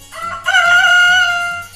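A rooster crows one loud, close cock-a-doodle-doo, rising into a sustained call and tailing off.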